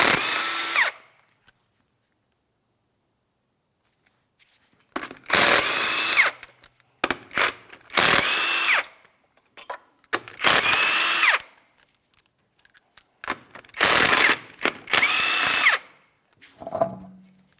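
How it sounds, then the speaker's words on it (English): A power tool with a 19mm socket spins lug nuts off a front wheel of a 2007-2014 Ford Edge, giving about six loud, close whirring bursts separated by silent pauses. "We're using a 19mm for each of these lug nuts so we can remove the wheel."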